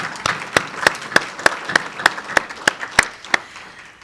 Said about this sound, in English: let's hear a round of applause for this, Major League regular season baseball in our city.